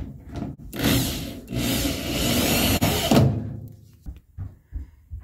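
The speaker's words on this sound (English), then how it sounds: "Now we're gonna put these two screws on that are on the back. Fasten down the top piece." Power drill driving two screws into the back of a dryer's top panel, with bursts of whirring and rubbing, loud and close, broken by short pauses, then quieter handling clicks toward the end.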